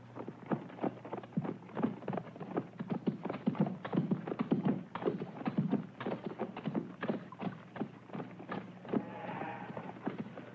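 Horses clip-clop steadily as they pull a heavily loaded baggage cart, a dense run of close hoof taps filling the whole stretch over a low steady rumble, with no voices.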